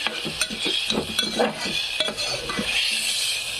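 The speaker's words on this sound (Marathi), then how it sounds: "कांदा आणि एक टमाटर टाकलेला आहे, पण टमाटर पण छान फ्राय झालं" Onion and tomato frying in a pan for chicken biryani, with a spoon scraping and stirring in irregular strokes over a steady close sizzle and a few metal clinks.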